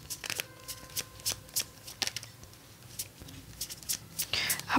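A deck of tarot cards is shuffled by hand in quick riffling bursts with short pauses between them, close and crisp, with no talking over the shuffling.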